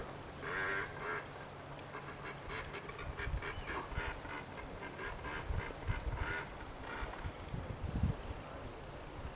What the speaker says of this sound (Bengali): এই পাখিগুলো ডাকছে।